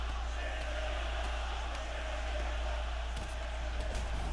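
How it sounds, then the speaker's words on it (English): A virtual arena crowd in the UFC 6 video game chants steadily throughout, a loud, dense roar of voices with a few scattered sharp thumps and no clear break. "They really love chanting stand him up in this game."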